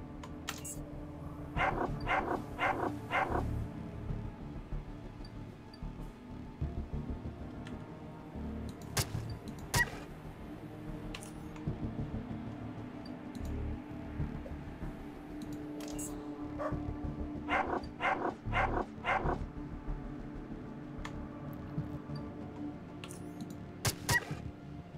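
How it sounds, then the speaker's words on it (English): Dog barking and snarling during a fight in the video game Underrail, with several bursts of sharp barks spread across the clip over a low game ambience. "sometimes there's a dog out here."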